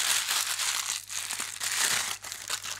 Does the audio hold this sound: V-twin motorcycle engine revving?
no